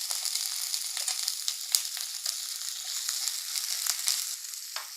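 Chopped onion fries in hot oil in a pan, giving a bright, continuous sizzle close up, with occasional crackles and light stirring scrapes and no talking.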